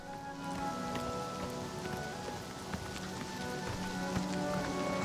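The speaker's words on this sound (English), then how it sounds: "Horse hoofs in the rain." Steady rain patters throughout in the video game Oblivion Remastered with faint, irregular clops and thuds underneath from a horse's hooves moving through wet ground, set against a soft tonal background.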